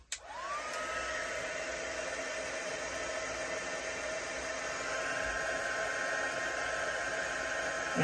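A heat gun blows steadily across a layered, stamped art journal page, a continuous loud whooshing hiss of hot air that runs without pause from a sharp click-on start.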